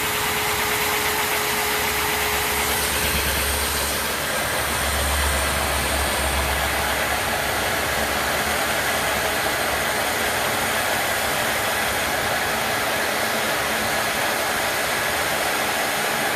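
The engine of a 6x6 idles at low speed with a steady, loud mechanical hum and vibration, sometimes deepening briefly, running evenly and close without any talk.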